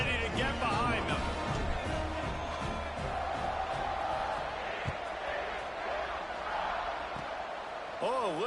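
A large crowd roars and cheers in a football stadium at Candlestick during a TCU versus North Carolina game, a steady dense din that persists under a commentator's continuous talk.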